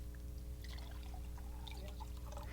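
Water pours from a pitcher into a glass, a close, steady liquid stream with splashy gurgles building as the glass fills, over a low background hum.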